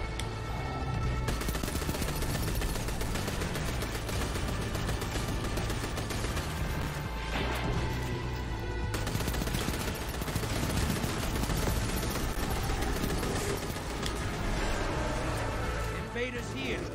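Gunfire in a Destiny 2 Gambit match: dense, steady automatic shooting and impacts running for the whole stretch, mixed with game effects, while a voice talks over it now and then.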